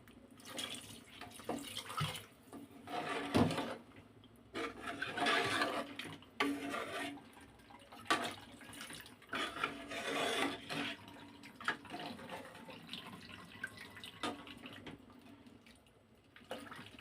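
Water poured into a pot of tamarind goat curry, an intermittent splashing and trickling in several bursts, fairly quiet and close, with no talking.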